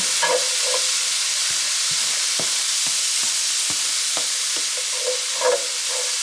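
Celery tops and other chopped vegetables sizzle steadily in a hot pan while being stirred, the constant frying hiss broken by repeated scraping strokes of the utensil, close and loud with no talking.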